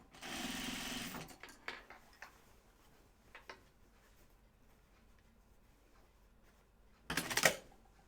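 A home sewing machine runs a top stitch in one steady burst for about a second, followed by a few scattered clicks and handling noises and a second short, loud run of stitching near the end.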